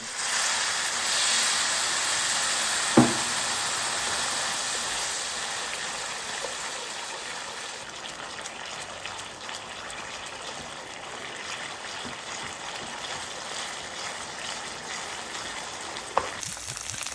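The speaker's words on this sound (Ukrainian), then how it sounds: "Починаємо додавати наші рідкі інгредієнти. Спочатку бульйон, потім вино, потім знову бульйон." Broth and wine go into a sizzling seafood risotto, giving a loud, continuous hissing fry that eases slightly in intensity, with a couple of sharp clinks from the pan.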